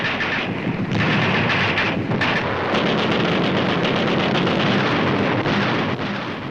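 3-inch guns fire in a battle with Marines and amtracs, a dense, continuous roar of booming blasts and rumbling explosions heard at a distance.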